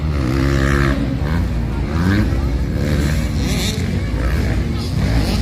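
Motorcycle racing engines rev hard in a close heat, a continuous loud drone with rising and falling pitch sweeps as bikes accelerate and pass, with no gaps throughout.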